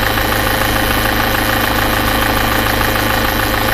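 A Citroen C5 X7 with a DW10CTED4 engine idles with an extraneous vibration noise, giving a steady, loud, unbroken mechanical hum and buzz close to the engine bay, with no voices.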